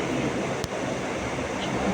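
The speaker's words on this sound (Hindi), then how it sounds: "मैं इन लहरों की आवाज को पहचान सकती हूँ।" Ocean waves wash in and out along the shore, a steady broad surf hiss with wind noise and a single faint knock partway through.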